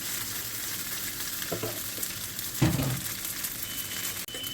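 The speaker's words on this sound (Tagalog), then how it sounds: "Lutuin mo muna yung bawang para malasa." Garlic and cooked rice fry together in a pan for garlic fried rice, a loud, steady sizzle with a brief burst of stirring and scraping midway, heard up close without talk.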